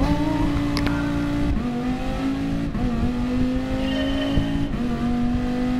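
Racing-game car engine drones steadily at high revs throughout, with gear shifts and pitch changes audible, loud and continuous with no talking.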